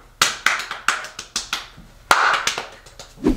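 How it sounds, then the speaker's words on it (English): Hands clap in sharp, separate bursts, about a dozen slaps at an uneven pace, close and fairly loud in a quiet room, with a short vocal sound near the end. "I'm gonna keep clapping my hands"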